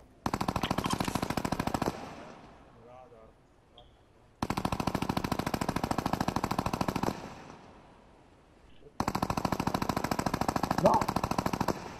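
Three long bursts of rapid automatic gunfire in the video game Fortnite, close and loud, separated by brief quieter gaps.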